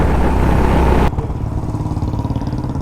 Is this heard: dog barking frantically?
no